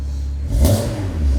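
A BMW 335i engine firing up and revving, with a sharp rise in pitch and a loud surge midway, then settling into a steady, rumbling idle close by.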